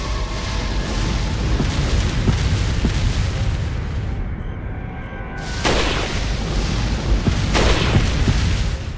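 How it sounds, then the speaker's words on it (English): Catapult bombardment explosions in the 2005 video game Resident Evil 4, heard as a dense, continuous rumble of booms with two sharper blasts standing out near the middle and end, loud and with no talking. "They're going to keep bombarding us."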